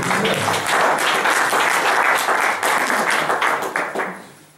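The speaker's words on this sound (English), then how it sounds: "Let's clap for that husky." A crowd claps in appreciation of a husky, a few seconds of lively, close applause with audible individual claps that tapers off quickly at the end.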